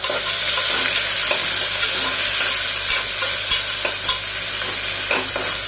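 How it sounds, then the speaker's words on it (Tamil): Onions, tomatoes and garlic sauté in oil in a pan for brinjal gravy, a steady loud sizzle running throughout with occasional scraping clicks of a spoon stirring, no voices. "வெங்காயம் தக்காளி பூண்டு எல்லாமே நல்லா வந்து போட்டு நல்லா வதக்கிக்கலாம்"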